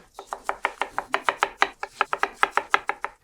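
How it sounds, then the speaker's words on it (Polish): Strawberries chopped finely with a knife on a cutting board, about twenty quick, crisp, evenly spaced chops in a steady rhythm, close and alone. "Pokrój kilka truskawek drobno."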